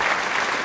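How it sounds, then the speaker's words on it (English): A short, quick burst of applause, steady clapping lasting under a second with no voices over it. "Give me an applause."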